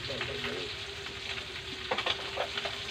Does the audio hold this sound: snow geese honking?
no